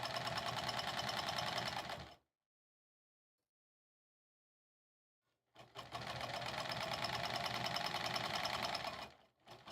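A sewing machine stitches embroidery for a sleigh ride pillow cover in a fast, even mechanical chatter, stopping for about three seconds of silence before running again just as loud.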